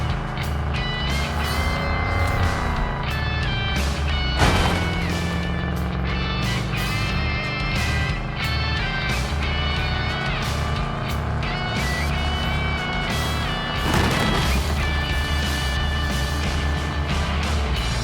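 Racing cars in a video game hold a constant, loud engine drone with shifting pitch and gear changes. Several whooshes of cars passing sweep by.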